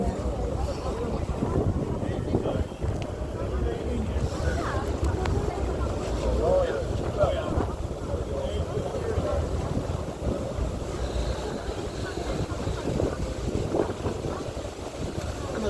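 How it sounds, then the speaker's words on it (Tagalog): Strong wind buffets the microphone with a constant roar at Sydney Harbour Bridge, steady and loud throughout, with faint outdoor ambience beneath. "Ang lakas ng hangin."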